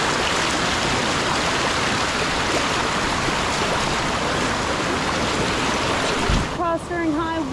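A rushing stream in high water on the Hanakapi'ai trail on Kaua'i, Hawai'i, roars loudly and steadily up close, with a brief voice near the end.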